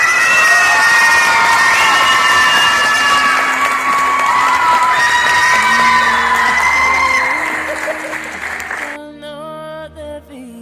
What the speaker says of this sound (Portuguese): uma grande salva de palmas para o Alexandre.